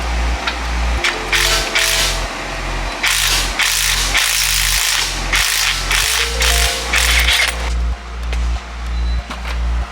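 Rhythmic ratchet clicking from a wrench working 13 mm and 17 mm suspension bolts loose on a BMW E46 drift car, a steady run of close, loud pawl ratchets with short pauses between bursts.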